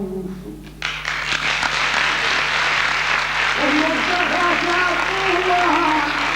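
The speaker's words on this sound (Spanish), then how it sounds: "recibida estes amigos con un aplauso" Crowd applause at a regueifa verse-improvisation contest in Vigo greeting the improvisers, steady, loud, close clapping that starts after a short spoken phrase and continues throughout, with a voice talking over it toward the end.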